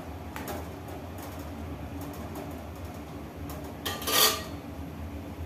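A metal lid clanks down onto a pot of Purvanchal-style rohu fish curry, one brief bright clatter standing out against a quiet kitchen background.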